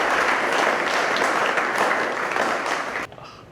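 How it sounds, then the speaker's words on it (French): Wedding guests at a Cameroonian white wedding applaud the couple, a dense, steady round of clapping that carries on for about three seconds, then drops away abruptly to near quiet. "Chers frères et sœurs, applaudissons pour Emmanuel et Lauren."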